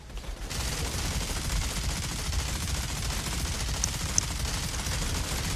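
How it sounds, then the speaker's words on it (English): Video game shotgun firing in rapid succession, dense sustained blasts with a mechanical rattle, loud and continuous with no talking. "this is the first shotgun that actually works"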